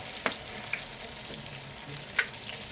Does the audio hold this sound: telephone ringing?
no